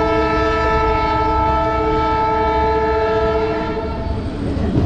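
A passenger train rolls at Muzaffarpur station while its horn sounds a long, loud, sustained blast over the rumble and clatter of the cars, close by and with no talk.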